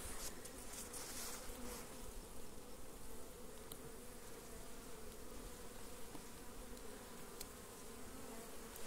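Apis honey bees buzz densely around a colony captured in a cabiuna tree stump, a continuous close swarm hum with individual bees darting past, with no talking.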